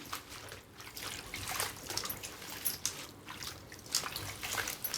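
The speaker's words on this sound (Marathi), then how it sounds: "मेथीला धुवून घेऊ" Fenugreek leaves are rinsed by hand in water, giving a steady, close trickle and splash with small drips and soft swishing throughout, no talking.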